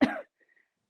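A single short, close cough from a woman doing a postpartum core exercise, then silence.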